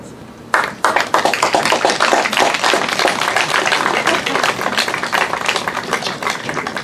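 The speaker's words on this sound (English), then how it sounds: "give your families a big round of applause for all of their support through the years" Students at a senior awards ceremony applaud their families, a burst of dense clapping that starts suddenly and holds strong throughout, filling a large room.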